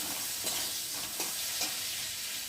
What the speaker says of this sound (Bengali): আর দেবো পেঁয়াজ পেঁয়াজটা একটু ভালো করে ভেজে নেব